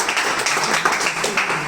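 An audience at a coaching class's first anniversary event applauds a teacher in a brief, steady wash of clapping.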